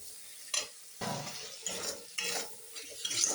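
Chopped tomatoes with salt being stirred in a hot pan, a soft sizzle broken by several scraping strokes of a spoon against the pan at irregular intervals, close and fairly quiet, without talk.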